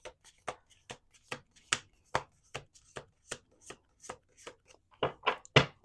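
Deck of cards shuffled by hand, a steady series of sharp, close slaps and riffles repeating about twice a second, growing louder toward the end, with no talking.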